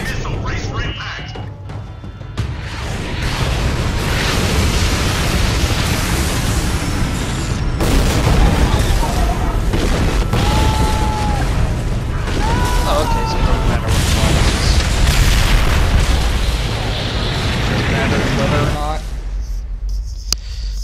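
In a PS3 video game, a missile strikes with a sustained roar of explosions and rumbling booms that fills the scene for nearly twenty seconds, loud and dense, with game voices talking through it.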